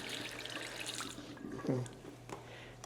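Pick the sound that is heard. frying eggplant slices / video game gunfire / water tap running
water tap running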